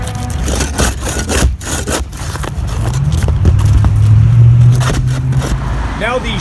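Roofing screws are forced out during the demolition of a free-standing structure, giving close scraping, creaking and prying of wood and metal with a sustained grinding stretch, while someone talks.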